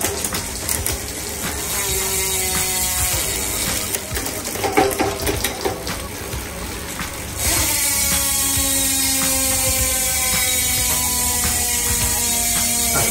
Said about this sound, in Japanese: 右手の変速で今動かすとこんな感じです